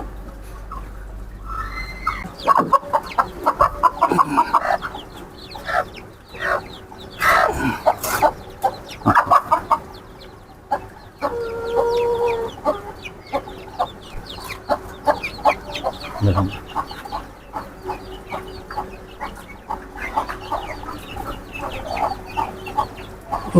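Hill chickens cluck steadily throughout, with overlapping calls from several birds and an occasional louder squawk, close by in a busy farmyard.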